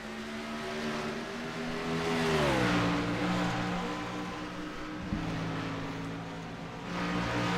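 NASCAR Cup cars race at Phoenix Raceway in the iRacing game, a steady, moderately faint engine drone with pitch sweeping down as a car passes, then holding, under no talk.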